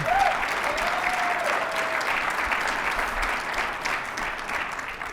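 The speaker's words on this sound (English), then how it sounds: "just make sure you look and see who's clapping the loudest" A live audience at an IndyTalks event with Nevada Governor Joe Lombardo claps steadily and fairly loudly for about five seconds, a dense, even wash of hands with no voices over it.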